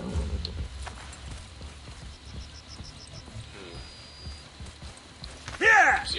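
Horse hooves clip-clop at a steady trot in the Assassin's Creed Brotherhood video game, soft and mid-distance under light game ambience, ending with a brief whinny or bright game effect.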